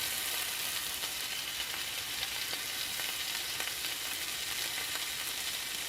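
A breakfast wrap fries in a pan with a continuous, even sizzle that stays soft and steady, with faint crackles scattered through it.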